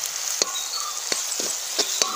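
Onion and curry leaves frying for a crab curry in a village-style pan, a close steady sizzle with several sharp crackles and spatters scattered throughout.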